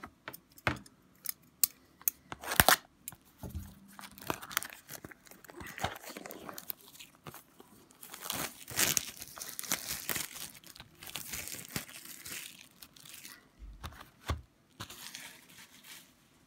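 Trading card packets are torn open and handled up close, with sharp crinkling foil, rustling and tearing bursts scattered irregularly across a quiet room.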